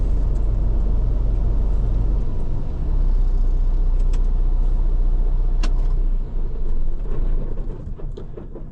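A container-hauling truck's engine rumbles at idle, then its deep low drone changes and dies away as it is shut down, leaving lighter mechanical rattles and a few sharp clicks nearby.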